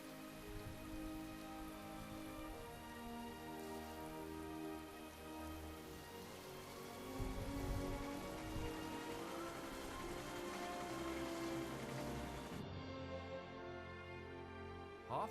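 Torrential rain pouring down in a heavy, continuous wash of droplets, loud and steady throughout with no voices, easing slightly in the final seconds.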